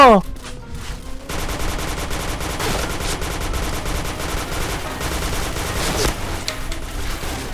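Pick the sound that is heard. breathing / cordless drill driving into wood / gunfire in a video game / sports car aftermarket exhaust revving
gunfire in a video game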